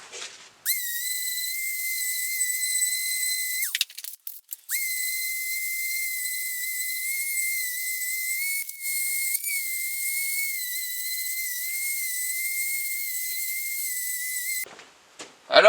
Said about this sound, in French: et on va poncer la table